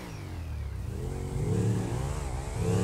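A motorcycle engine revs in a parkour video game, a mid-pitched engine tone that climbs and swells louder partway through, alone with no talking.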